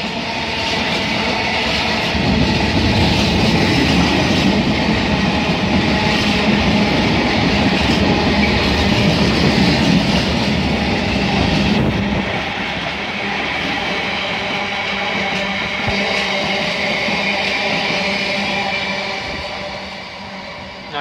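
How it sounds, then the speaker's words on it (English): A massive cement freight train rolls past, a loud steady roar of wagons and wheels with clickety-clack rhythm that lasts the whole time and eases slightly partway through. "Massive cement train."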